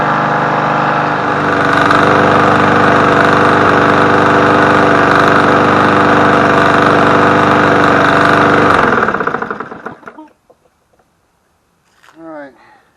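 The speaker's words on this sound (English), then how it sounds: "Alright, it's been running for a couple of minutes. Engine should be nice and hot." A Yard Machines push mower engine runs loud and steady at close range for several seconds, then cuts off and winds down into quiet, followed by a brief faint voice.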